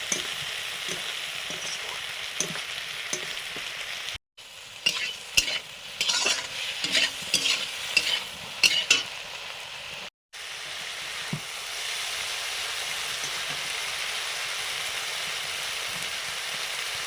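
Cauliflower and potato stirred with spices in a pan: continuous scraping and stirring over a soft sizzle, close and fairly loud, with two brief silent breaks.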